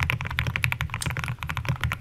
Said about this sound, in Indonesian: Ini sound yang lu expect dari aluminium keyboard yang menggunakan keycap yang tinggi, gede gitu kayak SA atau MT3.